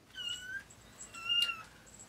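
A kitten gives two short, thin meows about a second apart, quiet and near, with faint room hush between them and no speech.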